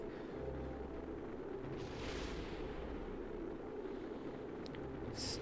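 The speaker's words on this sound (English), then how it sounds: "It's still exploding." Continuous rumbling explosion in a video game rolls on steadily for several seconds, a dense low roar with a brighter burst partway through and a sharp crackle near the end, no voices.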